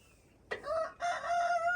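A rooster crows twice in quick succession, a short opening call then a longer drawn-out cock-a-doodle-doo, fairly close and clear with no talking, in a backyard where chickens are kept.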